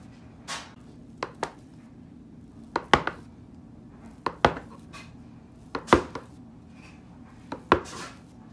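Semolina bread dough being cut on a semolina-dusted surface: about a dozen sharp, crisp taps and knocks in an irregular rhythm, close and fairly soft, with no talking.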